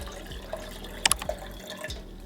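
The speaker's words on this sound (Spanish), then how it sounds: "Para hacer este café voy a utilizar esta jarra que tengo aquí de aluminio. Vamos a poner el agua." Water pours into an aluminium jug for café de olla, a faint splashing trickle with a few brighter drips over a steady low background hum.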